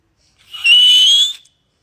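A single sustained whistle from a person, clear and loud, lasting under a second against silence.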